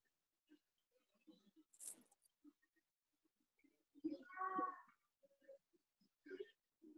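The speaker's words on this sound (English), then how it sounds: "We have a screaming cat." A cat lets out a short, strained yowl from nearby in a quiet room, with faint small sounds scattered before and after it.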